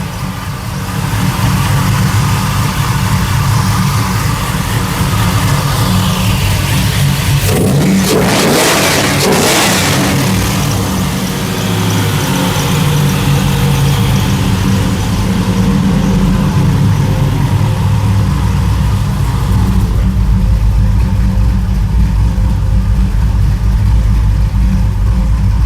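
An LS-swapped 1981 Pontiac Trans Am with a Pypes Violator exhaust revs hard and steadily, loud and close, with a sharp rising rev burst partway through before settling back into a heavy, droning roar.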